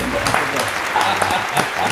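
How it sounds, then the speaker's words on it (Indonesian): An audience at a talk-show style discussion claps together in a short, dense burst of applause, close and fairly loud throughout. "kita kasih tepuk tangan dulu"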